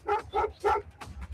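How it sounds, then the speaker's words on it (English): A dog gives four quick, close barks in rapid succession, the last one somewhat softer. "That's my dog Rose."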